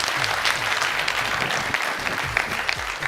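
A studio audience on a Punjabi TV quiz show claps continuously, a dense, loud, even applause filling the whole stretch without pause.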